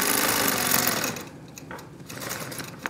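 A sewing machine stitches steadily and close up for about a second, then slows into quieter, intermittent runs as the seam continues along the edge of the presser foot.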